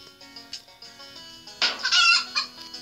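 A chicken clucks close by in a short burst of several calls, ending in a louder, rising squawk, with no other sounds around it.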